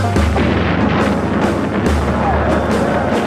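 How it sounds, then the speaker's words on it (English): A booby trap detonates in a rapid series of heavy, booming blasts over a low rumble, loud and close throughout. "the booby trap would detonate"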